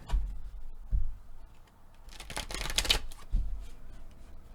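Tarot cards are shuffled with a couple of soft taps followed by a brief riffling flutter and a final tap, close and quiet, with no talking.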